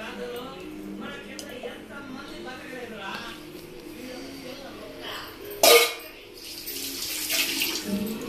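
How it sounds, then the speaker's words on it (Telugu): Liquid mixture poured into hot milk and stirred to keep lumps from forming, a steady watery trickle with soft clinks under ongoing talk, ending in a brief splash and a hissing rush. "కాగాక పాల్లో పోసుకొని కలుపుకోవటం."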